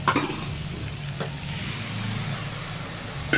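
Spice paste poured into hot oil sizzles steadily while being stirred for a pointed gourd and shrimp curry, with a brief louder splash at the start and a scrape near the end.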